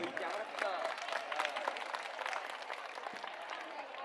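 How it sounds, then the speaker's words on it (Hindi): An audience applauds at a school graduation and annual felicitation ceremony, a steady dense clatter of many hands clapping throughout, heard from a moderate distance in a large gathering with some crowd noise. "आप अपने लिए एक बार जोरदार तालियां कर दीजिए."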